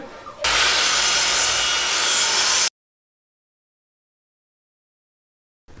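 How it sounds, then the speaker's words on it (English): An old, badly twisted scrap board is fed through a wood planer, making a loud, rough, continuous roar of cutting for about two seconds before the sound cuts out abruptly to silence. "So I'm going to run it through the planer and see what happens."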